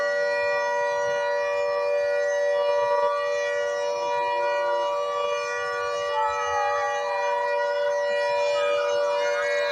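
Steady, level wail of a civil defense all-clear siren at a Titwala mock drill in Thane, holding one constant pitch loudly throughout with faint background noise beneath.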